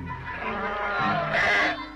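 Sheep bleating as a flock waits to be pushed through a dipping bath against mange, a wavering nasal bleat swelling near the end over a busy outdoor background.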